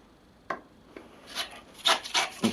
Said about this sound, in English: Let's just scrape a bit more here.